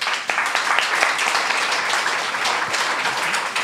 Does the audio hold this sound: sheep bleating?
no